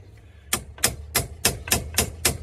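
Seven sharp metallic hammer strikes on a punch during repair of a 1964–66 Ford Thunderbird shift lever, evenly spaced about a third of a second apart, close and fairly loud over a low hum.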